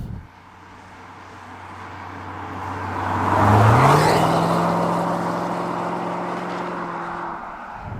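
A BMW E60 550i Touring with its V8 engine cruises along, the low engine note rising smoothly with a gear change midway as the drone swells and then settles back to a steady hum.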